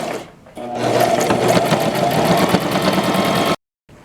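A sewing machine stitching a fabric face mask runs in a fast, loud, continuous mechanical whir for about three seconds, close by, then stops abruptly.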